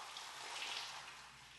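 Water flows steadily from a hose through a Dirt eRacer no-bucket car wash sponge, a continuous close hiss and splash with no talk.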